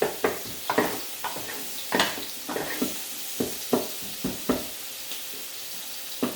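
Eggplant torta frying in a pan, a steady sizzle broken by repeated scraping and stirring taps at a regular pace, close and moderately loud with no talk.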